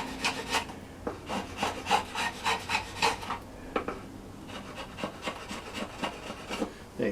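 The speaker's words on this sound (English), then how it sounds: "See the advantage of a nice sharp draw knife. Just tidy up the sawn edge." A sharp draw knife shaving the sawn edge of a yew bow stave, a steady run of short rasping wooden strokes in a quick rhythm, close and fairly quiet, with no talking.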